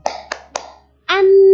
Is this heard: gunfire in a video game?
no